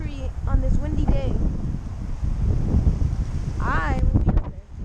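Gusty wind on a windy day near a big old tree being climbed, a steady broadband rush roaring across the whole clip, with a voice talking briefly near the end.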